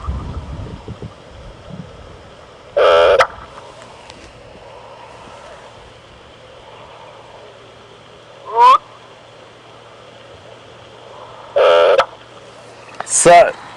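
A recorded black-bellied bustard call plays as a few short, separate bursts spread over several seconds, some with a popping, whistled quality, set against a faint steady background hiss.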